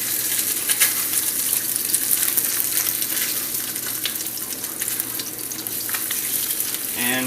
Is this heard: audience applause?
no